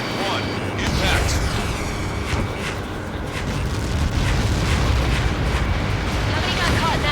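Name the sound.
missile explosion in video game Ace Combat 7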